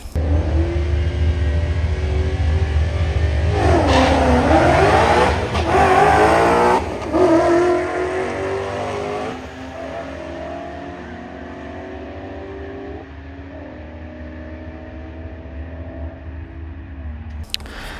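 A Whipple-supercharged Ford Bronco Raptor launches down a drag strip, its engine roaring loud and climbing through several gear changes before the sound recedes into the distance.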